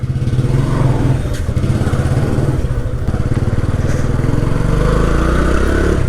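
A Vikrant V12 motorcycle with a 10.6 bhp engine idles close by, a loud, steady thumping beat with a fast even rhythm throughout and no talking.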